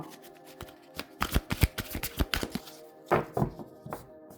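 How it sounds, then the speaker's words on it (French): Tarot cards being shuffled and drawn for a nine-card spread: a burst of crisp riffling and slapping card sounds, then a few separate snaps and thumps as cards are laid down, close and clear with no talk. "on va regarder pour couvrir donc les cartes et en ressortir 4 pour qu'on fasse donc le tirage à 9 cartes"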